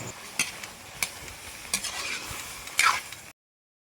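Garlic, ginger, chili and salt being stirred through coconut milk in a pan, with a steady soft sizzle and periodic scraping strokes of the spoon every half second or so, close and moderately loud.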